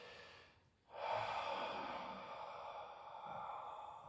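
A slow, deep inhale during a Pilates exercise, drawn steadily through the mouth after a short pause, breathy and close, swelling to a long sustained draw with no talking.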